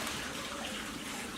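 Water runs steadily and loudly from a tap, with a continuous rushing hiss like a small river and no other sounds.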